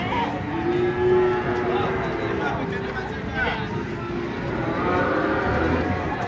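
A cow lets out a long, low moo amid outdoor crowd noise and people talking nearby, as a large cow is unloaded from a truck.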